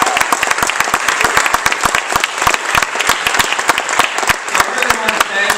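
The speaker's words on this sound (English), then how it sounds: "And let's hear a round of applause for all of them." An audience at a celebration event claps for a group of honorees: dense, steady applause with many sharp individual claps, loud and sustained throughout with no talk over it.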